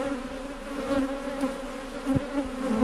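Honeybee swarm being collected on Réunion Island, a dense, steady buzzing hum of many bees close by, holding at moderate loudness with occasional louder individual bees passing, no talking.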